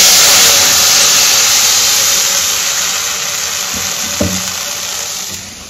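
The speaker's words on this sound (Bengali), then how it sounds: "এবারে এই ঘোলটা ঢেলে দেবো।" Buttermilk poured into hot spice-tempering oil, a loud, steady, broad sizzling hiss that gradually softens, with a faint clink near the end.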